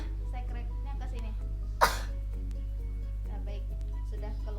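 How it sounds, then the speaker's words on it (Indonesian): A child gives a single forceful cough to clear phlegm during a deep-breathing and effective-coughing exercise, one sharp burst standing out over a steady low hum and an adult's gentle spoken instructions. "Adik batuk ya yang kencang"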